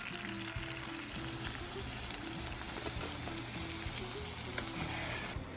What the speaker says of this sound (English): I'm simply going to fry these tomatoes a bit.